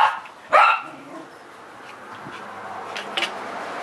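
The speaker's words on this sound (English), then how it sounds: "that's my dog alerting me there's some national emergency" A dog barks a couple of times, a sharp bark near the start and a fainter pair toward the end, somewhat distant against a quiet room.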